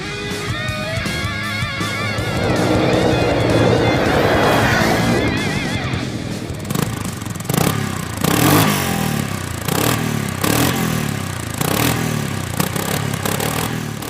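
A Kymco Maxxer 450i SE scooter with a liquid-cooled 450 engine accelerates, first a steady loud drone and then a series of rhythmic revving pulses, close by.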